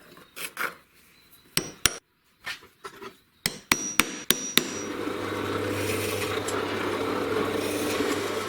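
Sharp hammer blows punch hole centers through a plastic grinder cover, a few scattered taps and then a quick run of four or five loud strikes, ending in a steady low hum.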